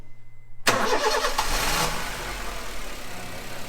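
A car engine cranks over and catches after a silent start, a loud close starter churn that rises into a steady running engine hum and continues to the end.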